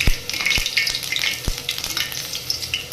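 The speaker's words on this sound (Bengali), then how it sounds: "কপিটা ভেজে নেব দেখুন এদিকে তেলে আদা আর পাঁচফোড়ন দিয়ে দিয়েছি" Cauliflower fries in hot oil with ginger and panch phoron, crackling and sizzling continuously close up, with a few sharp low knocks from utensils against the pan.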